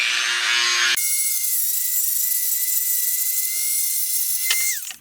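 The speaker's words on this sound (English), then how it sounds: "I got this stone thing on the end of my Dremel here. It seems to be whittling away at the end of the screw." A Dremel rotary tool with a grinding stone grinds down the end of a screw on a Mercedes M117.982 intake manifold, giving a loud, steady high-pitched whine that holds for about four seconds before winding down.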